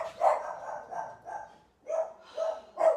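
Miniature schnauzer puppy barking in a string of short, high yaps indoors, close and moderately loud, with brief pauses between bursts and a gap midway.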